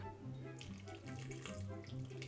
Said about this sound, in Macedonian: И на крајот ќе му клаваме малце вода